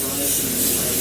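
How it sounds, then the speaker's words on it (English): A short, continuous hiss of aerosol cooking spray onto a sheet pan, loud and close, lasting about a second. "I'm gonna spray the pan"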